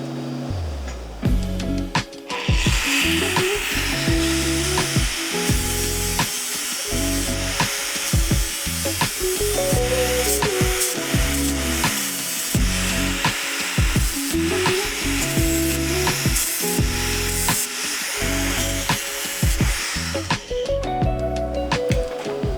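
A 3M abrasive disc grinds a steel mosaic billet, loud and continuous for over twenty seconds, with the pitch rising and dropping repeatedly as pressure on the steel changes.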